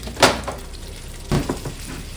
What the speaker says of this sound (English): Let that simmer.